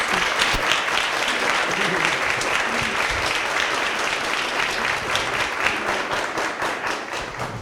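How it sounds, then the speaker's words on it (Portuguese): Sustained audience applause for women entrepreneurs at a gastronomy talk, a full, even roll of many hands clapping with a few louder individual claps near the front. "Então, uma salva de palmas para essas mulheres maravilhosas."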